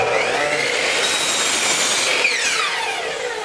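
A power saw trims a bundle of short wood pieces held together, a continuous close, loud cutting whine with rasping friction.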